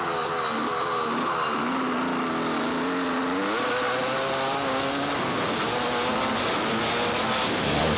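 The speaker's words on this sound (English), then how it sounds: "Looks like a rider ahead had trouble starting his bike, or it started and died." Dirt bike engines rev and idle at the start of an enduro race, a close motor with wavering pitch and other bikes running around it, steady and loud throughout.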